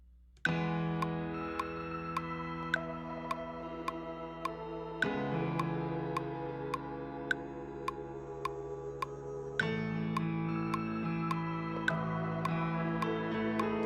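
Sustained synth-like piano chords changing every few seconds, overlaid with sharp, evenly spaced glitchy ticks that keep a steady rhythm throughout.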